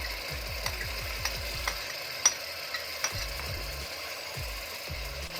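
Potato, chickpea and yogurt paste fries in spiced ghee for Lahori-style chickar cholay, with a faint steady sizzle under repeated scraping strokes of a spoon stirring in the pan.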